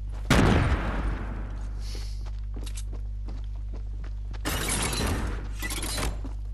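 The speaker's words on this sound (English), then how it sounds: "Grenade." A grenade goes off in Fortnite, a sharp loud burst with shattering debris that tails off, followed by light scattered clicks and a second rough noisy burst near the end.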